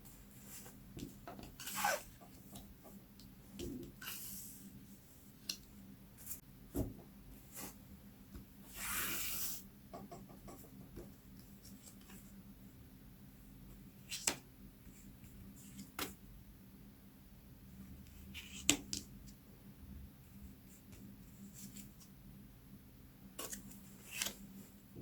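Tarot cards being drawn and shuffled for a fortune reading, heard as quiet, close-up papery rubs and soft card snaps scattered over a long, low stretch, with brief louder flicks.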